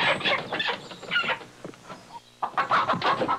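Cartoon chickens cluck in quick, bright bursts, several birds chattering together with a short pause midway before the clucking resumes loudly.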